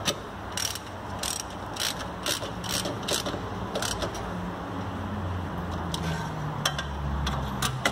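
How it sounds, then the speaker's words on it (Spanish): A ratchet wrench tightens a Big Brake adapter on a Charger R/T, giving repeated quick clicking bursts in an uneven rhythm over a low background hum, close up and without talk. "le vamos a dar una apretada con la matraca"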